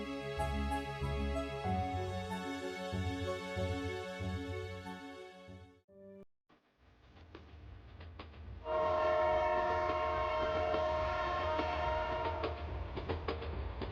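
A train travels through the rolling hill country of Sri Lanka, sounding a long, sustained horn blast in the second half after a brief quiet gap, with rail rumble beneath.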